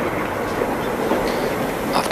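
Modern freight train with a large liquid tank wagon at the rear, passing close by as a steady loud rumble of rolling wagons with faint wheel clatter, with no talk over it.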